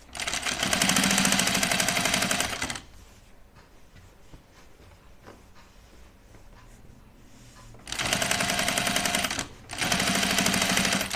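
A sewing machine stitches a long seam on a Grainline Cascade duffle coat in three loud, rapid bursts, separated by a quieter pause with soft handling noise.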